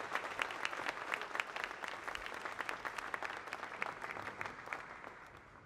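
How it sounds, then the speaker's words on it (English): Sustained audience applause at a political announcement event: dense, steady clapping from a large crowd that fills nearly six seconds without any speech. "The applause."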